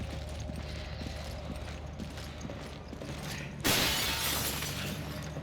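Glass shatters in a Resident Evil 5 video game window in one sudden, bright crash over a low ambient rumble, its tinkling debris fading over the following seconds.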